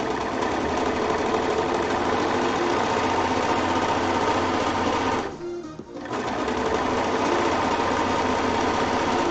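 An industrial sewing machine with trimming knives runs in a fast, steady buzz while sewing side seams on a garment, pausing briefly partway before resuming at full speed.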